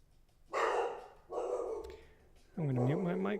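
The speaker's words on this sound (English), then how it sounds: "I'm gonna mute my mic so my dog won't blow your ears out." Indoor dog barking close by, two short harsh barks followed by a higher, whining yelp, loud against a quiet room.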